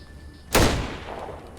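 A single sharp gunshot in the video game Atom RPG, a loud sudden crack followed by a decaying tail of reverberation, with a quiet lull before it.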